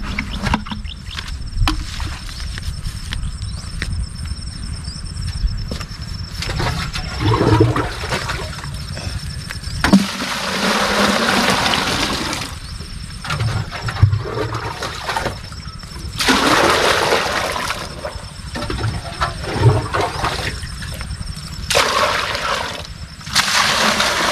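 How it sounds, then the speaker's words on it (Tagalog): Water pours and splashes into a drum, a rushing, gurgling flow that stops and restarts in several bursts, loud and close. "Tapos pupunuin na tubig."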